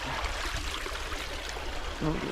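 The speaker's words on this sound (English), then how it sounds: "Look at that little mini waterfall right there." A small waterfall trickles in a stream on a wooded trail behind a pond. The water splashes and rushes steadily and close by, with no break in the sound.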